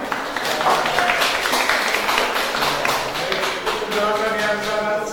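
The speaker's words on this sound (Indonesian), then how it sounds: "Makanya tepuk tangan" Clapping from a classroom audience during a teacher training practice session, dense and steady for about five seconds, with some voices and tonal sounds mixed in toward the end.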